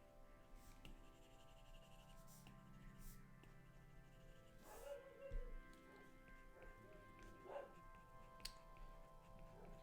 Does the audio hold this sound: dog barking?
yes